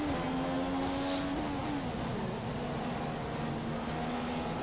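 Race car in the F1 2015 video game accelerating back onto the power, a continuous loud engine drone with a rising, shifting pitch and faint tyre and track noise, no voice.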